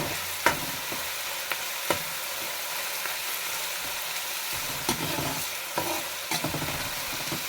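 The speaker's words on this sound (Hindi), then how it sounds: "अब मेरा प्याज ब्राउन हो गया है, 3 से 4 मिनट तक मैंने इसको भुना है।" Onions frying and browning in a pan for kaleji masala give a steady, close sizzle, with a few sharp clicks of stirring scattered through it. No one speaks.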